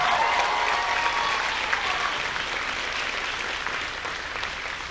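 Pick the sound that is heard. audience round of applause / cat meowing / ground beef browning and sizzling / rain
audience round of applause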